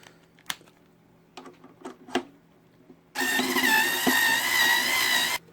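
Screws being loosened on a Super Nintendo console with a security bit: a few small, sharp clicks and taps, then a loud, steady mechanical whirring burst lasting about two seconds before stopping abruptly.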